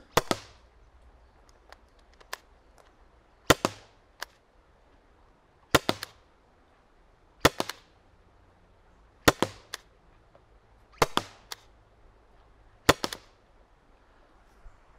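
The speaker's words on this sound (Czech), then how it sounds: "takže odjistíme a jdeme střílet" Umarex T4E TB 68 (HDB 68) CO2 shotgun fired outdoors at targets, about eight sharp, loud cracks at irregular intervals of roughly one to two seconds, with quieter clicks and handling noise in between.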